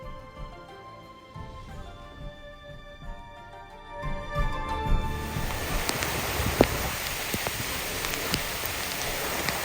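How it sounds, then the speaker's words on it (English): Heavy thunderstorm rain on an outdoor taekwondo training area, a soft patter that swells into a steady broadband downpour about halfway through, with occasional sharper drop hits. "we had a thunderstorm in the middle of filming Tangun"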